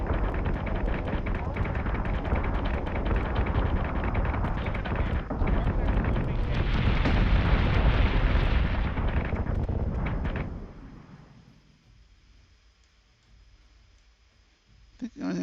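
Artillery fire raining on a ship in a strategy video game, a dense roar of rumbling booms and crackling blasts that stays loud for about ten seconds, then fades to a quiet hum before one last burst.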